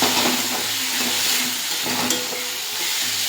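Spice paste with ground coriander and turmeric for chicken curry sizzles steadily in a pan, a dense close frying hiss broken by a few scraping stirs, with no talking.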